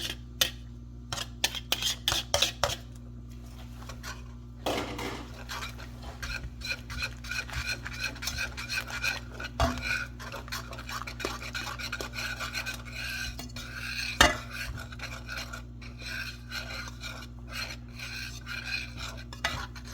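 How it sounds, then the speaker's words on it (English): Grated cheese going into a pot of macaroni and being stirred, close rasping scrapes and rubbing strokes repeating steadily, with a louder knock midway, over a constant low hum. "We're gonna start adding our grated cheese now"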